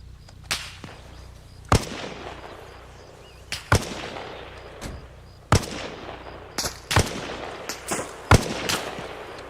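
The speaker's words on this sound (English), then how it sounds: "Guys, I think we're being shot at." Sharp gunshots crack out in ARMA Reforger, some single and some in short bursts, scattered irregularly over a steady low rumble. A few are loud and close while others sound more distant, and no one speaks.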